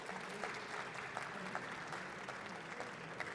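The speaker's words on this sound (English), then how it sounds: "Can we have a round of applause for Harry?" An audience gives a round of applause after a talk on retrofitting and reusing buildings, a steady wash of many hands clapping at moderate distance, fairly quiet and even throughout.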